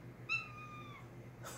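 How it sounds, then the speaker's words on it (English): A single drawn-out meow from a cat indoors, clear and fairly near, lasting under a second over a quiet room hum, with no talk. "And a kitty."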